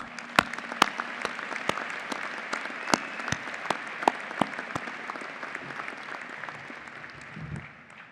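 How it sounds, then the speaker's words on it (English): A round of applause at a university commencement ceremony, Stevens Institute of Technology's undergraduate graduation, heard as sparse, distinct claps with a few sharp louder ones, fairly faint and steady, with no talk over it. "Let us have another round of applause for the families."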